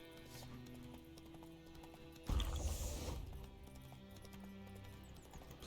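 Hooves of a horse in the Witcher 3 video game drum steadily throughout, with a brief louder burst of rushing noise midway before the galloping settles back under ambient game sounds.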